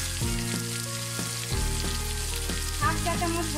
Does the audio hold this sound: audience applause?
no